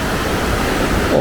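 Steady, dense roar of rushing water from the Falls of Dochart waterfall in Scotland, heard close and continuous with no breaks.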